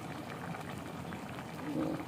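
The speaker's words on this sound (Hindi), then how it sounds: "और सिर्फ 5 मिनट के लिए मैं इसको दम पे रखूँगी इन चनों को।" Chickpeas cook on low heat in a covered pot for Lahori chanay, giving a soft, steady bubbling simmer with a slightly livelier burble near the end.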